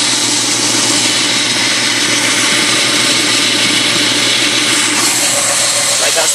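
A 1998 Ford Mustang with a fully redone exhaust idles loudly and steadily close by, a dense constant rumble with no pauses or revs, filling the whole stretch.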